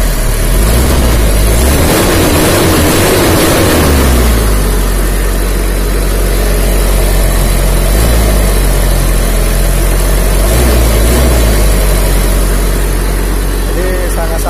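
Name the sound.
diesel car engine idling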